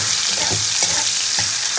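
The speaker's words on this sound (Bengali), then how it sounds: "তো ফোড়নটা ভাজা হতে হতে যে চিংড়ি মাছটা দিয়ে দেবো এর মধ্যে" Prawns and panch phoron spices sizzle in hot oil with vegetables and slit green chillies, a steady close frying hiss broken by a few soft stirring scrapes, with no voices.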